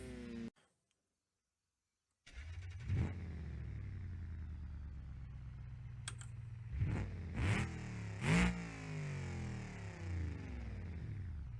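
A cop car engine in BeamNG.drive cuts out briefly to silence, then starts and settles into a low, humming idle, broken by a few sharp revving bursts near the end.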